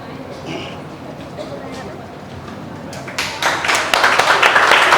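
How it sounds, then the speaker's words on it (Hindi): A school audience breaks into applause to welcome a student at a felicitation event. After a quieter stretch with a speaking voice, dense, close hand-clapping starts and swells, growing louder toward the end. "सभी लोग ताली बजाकर स्वागत करेंगे प्रतीक्षा मिश्रा।"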